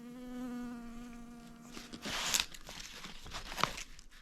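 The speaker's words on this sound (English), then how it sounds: "Oh, there's a bee." A bee buzzes with a steady, droning hum close by for a couple of seconds outside an abandoned farmhouse near Stringtown, West Virginia, then fades among soft rustling and crinkling sounds.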